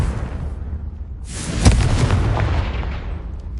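Confringo blasting spell going off in the Hogwarts Legacy game, a sudden heavy boom after a quiet moment, then a rumbling, crackling blast that decays slowly over a few seconds.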